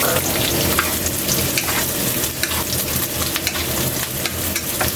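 Garlic and ingredients for pork adobo fry in a pan, a dense, continuous loud sizzle with light scrapes and taps of stirring scattered throughout, close up.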